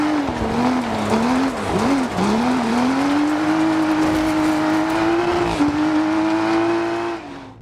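A rally car in a racing video game, its engine screaming at high revs under hard acceleration for the whole stretch, with the pitch dipping and climbing through gear changes and a hint of tire squeal.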